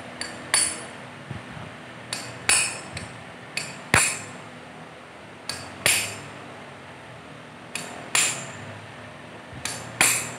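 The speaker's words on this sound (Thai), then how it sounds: "แล้วก็ใช้ค้อนตอก" A hammer taps repeatedly on a flaring tool, widening the end of a copper pipe for home or car air-conditioning work. The metallic strikes are sharp, close and irregular, about a dozen spread over ten seconds, with no talk.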